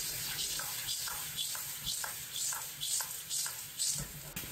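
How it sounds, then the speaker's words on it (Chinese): Spicy river snails stir-fried over high heat in a wok with chili bean paste and hotpot base, giving a steady sizzle broken by rhythmic scraping tosses and rattling shells, close and continuous. "开大火快速翻炒"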